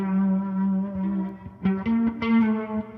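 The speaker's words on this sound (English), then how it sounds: "Rotary and spring reverb were meant to be." A Boss RT-2 Rotary Ensemble pedal with spring reverb swirls a sustained, distorted guitar chord, then a few picked notes splash and bloom into echoing reverb tails, loud and up close.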